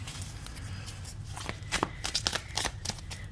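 A stiff deck of tarot cards is shuffled by hand, producing a run of soft, quick papery riffles and slaps that grow sharper toward the end, close and fairly quiet over faint background hum.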